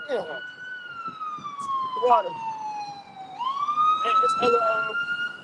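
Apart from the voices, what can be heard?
ambulance siren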